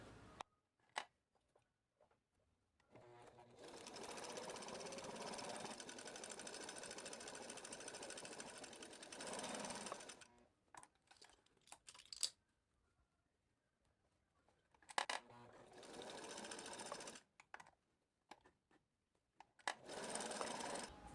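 A sewing machine stitches a seam at stitch setting 3, finishing with a backstitch: a long continuous mechanical whir, then a pause with small handling clicks, followed by shorter bursts of stitching, close and clear.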